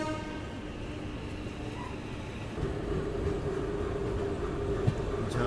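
An NCR Jhansi shed ALCO diesel locomotive shunts a parcel van at a station, giving a steady low engine rumble with faint rail noise and a soft clank near the end, continuous and moderately close.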